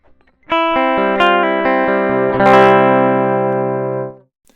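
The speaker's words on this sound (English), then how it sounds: "we should have a DI guitar sound now" A clean, dry direct-input electric guitar strums a chord with a few quick picked notes and a scrape, then lets it ring out before cutting off.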